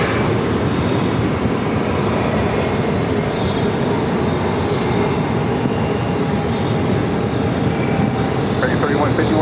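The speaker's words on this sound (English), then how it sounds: "American Airlines Flight 3151 coming in from Denver on an A321-200" An American Airlines Airbus A321-200 arriving from Denver at Phoenix airport produces a loud, steady jet roar that fills the whole stretch without letup, with a faint tonal whine running through it.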